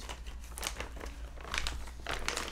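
Plastic parts bag crinkles during assembly of an Axial SCX10 II RC crawler kit, shock parts stage, with scattered rustling bursts, close and moderately loud, growing denser in the second half.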